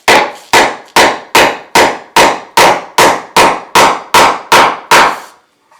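A hammer drives a nail into a concrete slab for a shower curb: twelve loud, sharp, evenly spaced blows in a steady rhythm, each with a brief ringing decay, close up and alone.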